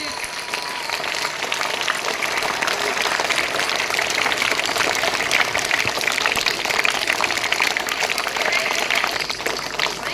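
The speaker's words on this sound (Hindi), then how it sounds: "तालियां इसी तरीके से बजती रहनी चाहिए" A crowd at an Indian freedom celebration keeps up loud, sustained applause, a thick wash of many hands clapping without letup for about ten seconds before the national anthem.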